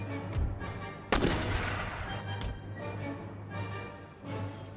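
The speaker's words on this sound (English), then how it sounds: "So you've got units firing in every which direction in the center." A battle in Empire: Total War with musket volleys and artillery fire. Loud, close booming shots and crackling gunfire come in several bursts, with a sharp blast near the start.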